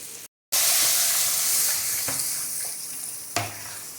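Fried potatoes with spices stirred in a hot pan, a steady close sizzle with a few scrapes and knocks of the spatula against the metal.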